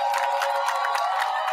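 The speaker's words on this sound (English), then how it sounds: "Let's give a round of applause for Ms. Pamela Moody and the Jim Hill High School Choir" Audience applause and cheering for a high school choir at a choral music festival, a steady dense wash of clapping and crowd noise with scattered whoops, loud and continuous throughout.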